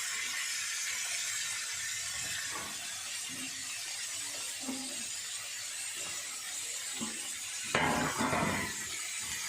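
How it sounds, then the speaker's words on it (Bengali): Long beans sizzle and hiss steadily in hot oil in a pan, a continuous bright frying crackle with a few faint clinks of utensils and a louder burst of sizzling near the end. "ওই বরবটি ভাজছি"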